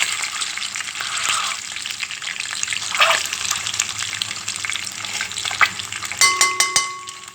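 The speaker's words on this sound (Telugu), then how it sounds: "వీటిని ముందుగా వేయించుకోవాలండి." Tomatoes and eggs fry in a pan for a tomato egg dish, a steady broad sizzle running throughout with occasional stirring scrapes and a few sharper clinks near the end, close and fairly loud with no talking.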